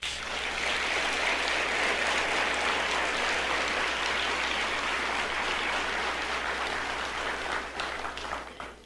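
A church congregation claps in a long, dense burst of applause under a steady low hum, tapering slightly toward the end.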